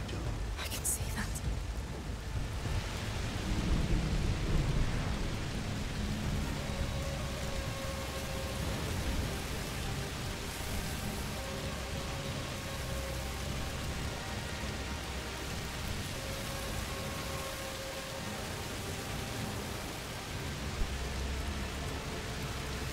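Steady heavy rain hisses throughout in A Plague Tale: Requiem, a dense wash of patter with low rumbling underneath, and indistinct voices murmur faintly beneath it.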